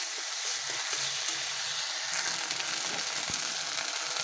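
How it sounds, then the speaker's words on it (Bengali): Ginger-garlic paste and onion paste sauté in a pan, giving a steady, close sizzle that hisses on without break and keeps an even level throughout. "এবার দিয়ে দেবো আদা রসুন বাটা, পেঁয়াজ বাটা, একটু অল্প একটু কষিয়ে"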